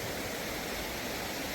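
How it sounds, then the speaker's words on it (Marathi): A river at the Pinnawala elephant orphanage in Sri Lanka flows with a constant, soft, even rush of water. The sound is steady throughout, with no voices or distinct events. "ही नदी आहे."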